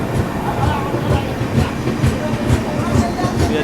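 Indian passenger trains from Sealdah, including the Bikaner Duronto Express, run past at speed with a steady rhythmic clickety-clack of wheels on rail joints and a constant loud rumble throughout.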